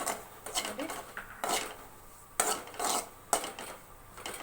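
A spoon scrapes and clinks against a bowl while cashew and almond powder is mixed for poha laddu, in a few separate bursts of close scraping with short pauses between.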